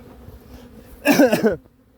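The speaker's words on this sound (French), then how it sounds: "Toutes les abeilles dans la ruche." A honeybee from a freshly hived swarm buzzes close by for about half a second, a loud, sudden drone that fades quickly into near silence.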